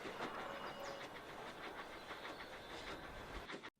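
A model train rolls along its rails in a Thomas and the Magic Railroad scene, giving a steady rumbling clatter with repeated rhythmic clicks and a light hiss, close and continuous until it stops abruptly near the end.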